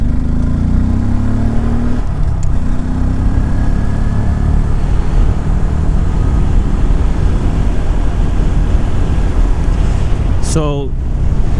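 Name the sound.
wind noise heard inside an Icon Airflite motorcycle helmet while riding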